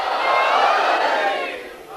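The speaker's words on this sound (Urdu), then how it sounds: "یہ سب نعرے ہیں آپ کی طرف سے، آپ کے جذبہ ایمانی کے." A majlis audience chants religious slogans in unison, a loud, dense crowd roar that swells and then tapers off over two seconds.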